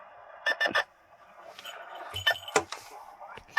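Telemetry transmitter on a Harris hawk's tail, switched on with a magnet, giving a few short electronic beeps close by, with small clicks and handling noise between them.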